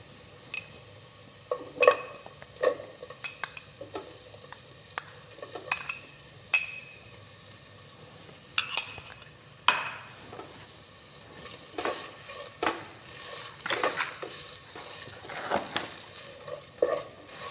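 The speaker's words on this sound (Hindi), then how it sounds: "अब हम इसमें आधी प्याली चिकन ऐड करेंगे जो कि हमने पहले से बॉईल की हुई थी।" Pre-boiled chicken being stirred into a pan of lightly fried garlic and ginger, with a soft steady sizzle under repeated sharp clinks and scrapes of a metal utensil against the pan.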